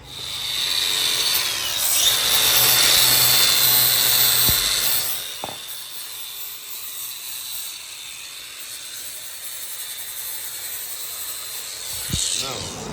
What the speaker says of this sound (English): now he's gonna flap disc that shit off